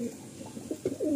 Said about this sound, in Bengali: পায়রা দেখুন একদম ফ্রেশ